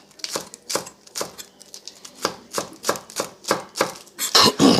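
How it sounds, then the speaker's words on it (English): Romaine lettuce shredded by hand in a home kitchen, a steady run of crisp tearing and crunching strokes, close and fairly loud, with no voices. "All I have is some romaine. So I'll just kind of shred this a little bit."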